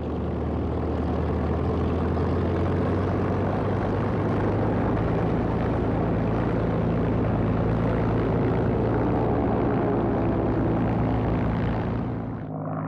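A WWII Corsair fighter plane's piston engine drones loud and steady at close range, with a deep propeller rumble that holds throughout before easing off at the very end.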